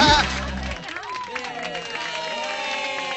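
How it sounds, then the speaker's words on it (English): A circus audience in a Hello Kitty cartoon breaks into applause and crowd noise after an announcer's call, a dense wash of clapping and cheering that follows a brief burst of talk at the start. "let's hear a big round of applause"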